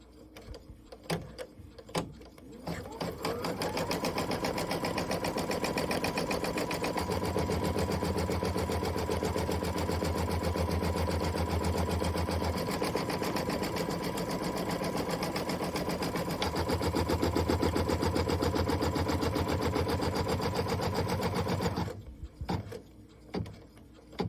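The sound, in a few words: embroidery machine stitching background piece in hoop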